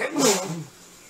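A single person sneezes indoors, a short sharp burst with a breathy voiced tail lasting about half a second, close to the microphone, followed by quiet room tone.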